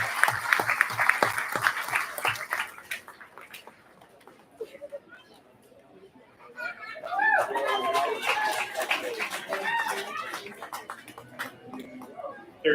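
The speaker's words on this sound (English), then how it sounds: "One more time though, big round of applause for these exhibitors." Audience clapping for exhibitors at the 2024 Summit County, Utah fair livestock market judging, a moderate round of applause that fades and then swells again, with a voice speaking over part of it.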